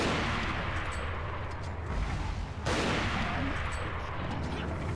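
Gunfire in the Resident Evil 4 video game with the Life In Hell mod, a dense continuous roar of shots and blasts with a sharp burst midway, loud and close.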